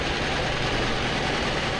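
The big engine of a John Deere R model, one of the first John Deere diesel tractors, gives a steady, loud, continuous rumble with no breaks.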